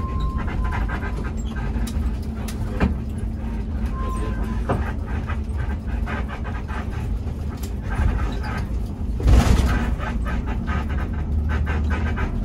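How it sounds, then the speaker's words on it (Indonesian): The air suspension of a Hino RK8 coach on a Sinar Jaya bus trip from Wonosobo to Jakarta creaks and ticks in irregular bursts over a steady road rumble, with one louder jolt near the end. "selama dalam perjalanan kita akan didengarkan oleh suara kriet-kriet dari suspensi Hino RK8"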